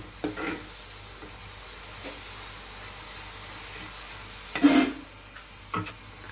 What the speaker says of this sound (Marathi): आता याच्यामध्ये आपण इलायची पावडर टाकणार आहोत। व्यवस्थित हलवून घ्यायचं।